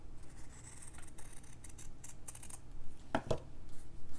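Scissors take small, gentle bites through fabric as circular shapes are cut, producing faint scattered snips and soft scratching close by, with a few sharper clicks near the end.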